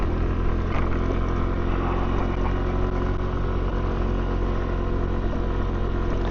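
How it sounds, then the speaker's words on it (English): A Genuine Buddy 125 scooter rides uphill in the rain, its small motor and exhaust humming steadily and loud throughout, with rushing background noise and no talking. "hopefully you can hear kind of like the buddy's exhaust, the motor"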